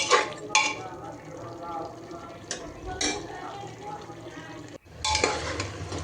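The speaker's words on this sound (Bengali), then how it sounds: "এখন আবার কিছু কাঁচা পেঁয়াজ দিয়ে দিলাম।" Raw onions frying in a pan for beef curry, a steady sizzle with stirring scrapes and utensil clatter against the pan, while someone talks over the cooking.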